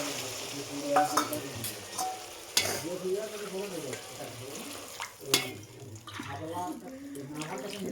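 Water poured into a frying pan of rohu fish curry with taro and tomato, with a splashing pour and hissing sizzle, close and steady under stirring, with some scraping and clattering as the liquid hits the hot spices.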